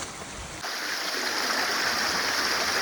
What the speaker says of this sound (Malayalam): പെയ്ത് തീർത്ത മഴേൻ്റെ വെള്ളം ഇങ്ങനെ ഒലിച്ച് വരുന്നുണ്ടായിരുന്നു